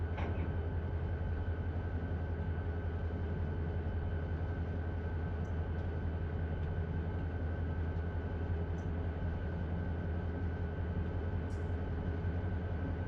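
Steady, continuous rumble of a Run8 simulator diesel locomotive idling in a rail yard, a constant low drone with a faint tonal hum, unchanging and alone with no talk.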